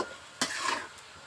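Bottle gourd is stir-fried in a pan, with a sharp scrape of the stirring utensil over a soft, continuous sizzle, close and brief.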